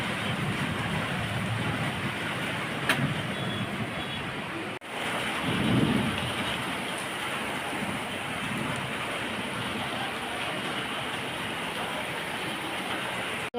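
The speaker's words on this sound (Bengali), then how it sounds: "বৃষ্টি শুরু হয়েছে।" Steady rain falling outdoors in the evening, a constant hiss with a brief low rumble of thunder partway through and a faint tap or click, no talking.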